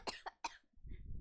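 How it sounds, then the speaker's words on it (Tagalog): Three quick, sharp coughs in a row, close and fairly loud, followed by a low rumbling murmur. "Pati ako umuubo."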